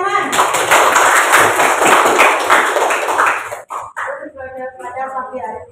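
A class bursts into dense, lively applause for about three and a half seconds, close and loud, then the clapping stops and a voice begins speaking.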